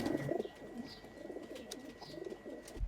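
Pigeon cooing nearby in a continuous run of low throaty coos, quiet and close, ending with a short bump, no speech.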